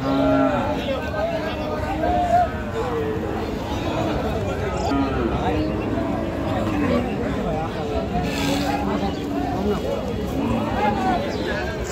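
Cattle mooing at a livestock market, thin bony cows among a busy crowd of talking people, low calls rising now and then over steady market chatter.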